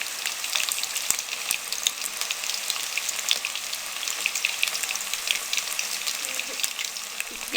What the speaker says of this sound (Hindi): इसके लो फ्लेम पे फ्राई करेंगे ताकि ये अच्छे तरीके से पक जाए।